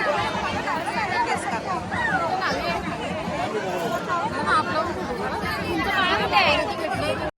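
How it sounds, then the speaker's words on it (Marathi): Dense crowd chatter fills a devotees' queue at the Ekvira Devi temple, many overlapping voices forming a steady, moderately loud babble throughout with no pauses. "भरपूर गर्दी आहे इथं"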